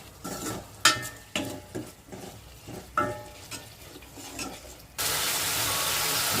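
A spoon stirs a sizzling dal tempering with tomatoes in a pan, giving rhythmic scraping strokes over crackling oil before a louder, even hiss takes over in the last second.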